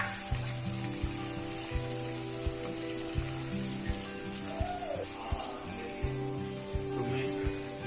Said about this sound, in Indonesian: Langkah selanjutnya kita akan menumis bumbunya.